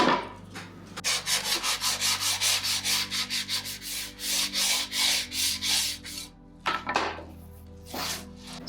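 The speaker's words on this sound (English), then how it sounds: "we're going to go ahead and get sanding now" Rhythmic back-and-forth sanding on wood, a steady run of rasping strokes, close and fairly loud, with a brief pause near the end.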